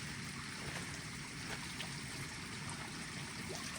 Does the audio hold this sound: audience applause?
no